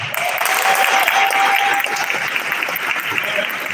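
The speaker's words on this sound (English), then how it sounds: "give her another big round of applause" An audience applauds at an Immigrants' Day event at a state house, a dense, loud, sustained clapping that fills the room evenly for several seconds without pause.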